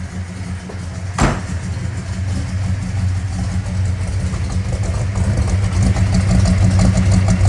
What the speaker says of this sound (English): Let's go take a listen to the pipes.